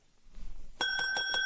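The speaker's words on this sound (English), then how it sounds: "There was a bell on the counter." A bell on a shop counter is struck a few times in quick succession, ringing bright and close, after a brief low rustle.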